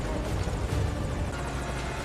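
Helicopter in the video game Metal Gear Solid V: Ground Zeroes, a steady rotor and engine drone heard briefly and fairly close, without speech.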